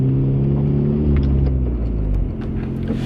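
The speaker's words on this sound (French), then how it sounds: "Vous devriez très bien entendre la voiture. Le son devrait être beaucoup mieux en tout cas." A Hyundai Genesis with a new intake and blow-off valve rumbles loudly and close, a deep steady engine drone with slight rises in pitch and no voices.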